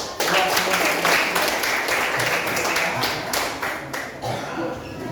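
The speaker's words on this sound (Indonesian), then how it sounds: "Jadi tepuk tangan dulu." A class bursts into applause, with sharp, distinct hand claps close by at first that gradually thin and soften toward the end, while voices chatter faintly among the clapping.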